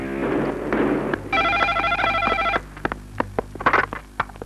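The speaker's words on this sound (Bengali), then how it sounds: "থানায় একটা ফোন করে লই।" A telephone rings in a bright, warbling electronic burst lasting just over a second, set between scattered low thumps and clicks in a quiet room. No one speaks.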